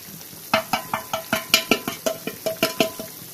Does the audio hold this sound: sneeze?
no